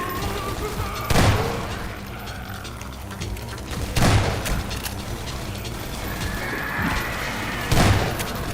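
Gunfire in Half-Life 2: three loud, sharp blasts spaced a few seconds apart, each ringing out over a steady background of game noise and ambience.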